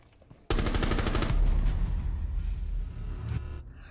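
Sustained automatic gunfire in the Smite video game, a loud dense burst that kicks in suddenly and rattles on for about three seconds before cutting off, with no talk over it.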